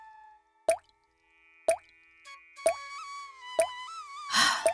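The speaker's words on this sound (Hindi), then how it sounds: "मंधार की पुरानी झोपड़ी से पानी टपक रहा था।" Water drips from the leaking roof of an old hut during rain, falling as single plops about a second apart, fairly close and clear, with a brief burst of noise near the end.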